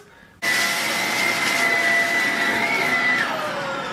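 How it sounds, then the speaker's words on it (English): A vacuum cleaner switches on abruptly and runs with a loud, steady whine, sucking up leftover screws from inside an electronic device, with a faint pitch dip near the end. "There is usually some excess screws that you can vacuum."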